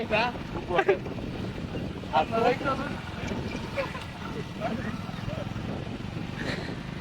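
Wind gusts across the microphone in a low, rough rush while people talk intermittently over it outdoors.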